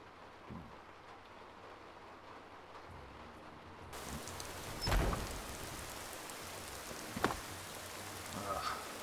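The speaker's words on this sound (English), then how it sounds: "Heavy rain." Heavy rain in Skyrim hisses softly in the background, with a few heavier splashes and a low rumble rising partway through.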